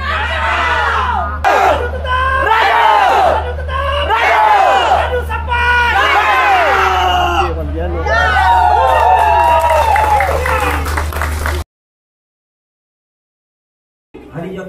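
A large crowd at a Barisan Nasional candidates' gathering in Lumadan roars with cheering and clapping in repeated swelling waves, loud and dense for about eleven seconds before cutting to silence, with noise resuming briefly at the end.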